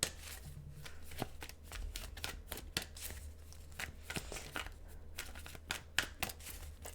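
Tarot cards are shuffled by hand in a quiet room, with a steady stream of close, crisp riffling flicks and soft slaps repeating irregularly throughout.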